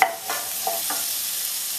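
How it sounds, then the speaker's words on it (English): A spoon scrapes and stirs curry channa with seasoning and fresh herbs in a pot, a few distinct scraping strokes over a soft sizzle. "Give that a quick stir"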